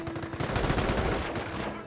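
Sustained machine gun fire in the real-time strategy game Company of Heroes Mobile, a dense rapid burst of shots rolling continuously with battle noise, loud and up close throughout.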